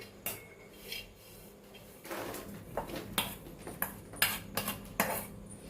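Roasted coconut pieces poured and scraped onto a plate, giving a run of light clattering taps and scrapes of a spoon against the dish, close and fairly quiet, with no talking.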